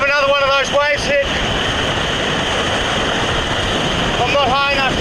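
Rough sea surf surging and breaking around rocks beside a kayak, a loud, continuous wash with heavy wind noise on the microphone, while a voice speaks briefly near the start and end.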